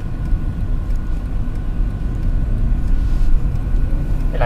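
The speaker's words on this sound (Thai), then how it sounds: "เสียงเครื่องยนต์มันคำรามแล้วเนี่ย" Mercedes-Benz C200 Kompressor (W204 C-Class, Elegance trim) accelerating on the road, a steady loud low engine rumble with road noise building gradually, no talking.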